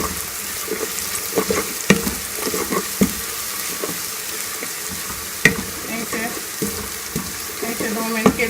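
Garlic paste being fried with browned onions in a pan, stirred as it cooks: a steady close sizzle broken by several sharp scraping and clinking stirs, with no talk.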